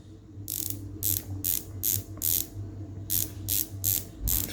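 A Pagani Design PD-1661 watch bezel is turned, giving crisp, close ratcheting clicks in quick bursts of several, with short pauses between bursts.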